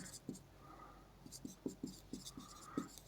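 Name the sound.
writing out a chemistry question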